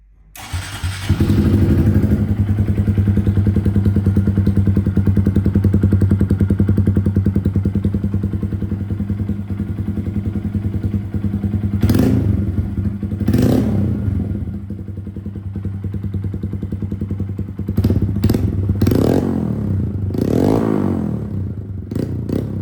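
A Honda Grom motorcycle with an aftermarket Hindle exhaust idles with a deep, throaty burble, then gets a few sharp revs that rise and fall; loud and close in a garage, no talking.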